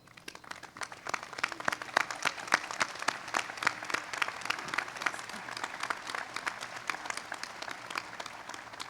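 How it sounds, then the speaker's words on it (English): Graduates applauding at an undergraduate commencement, a large crowd's clapping that builds within the first second into a sustained, even patter of many hands, with individual sharp claps standing out, heard from some distance. "Graduates, please rise and applaud all those staff members that walked this journey with you."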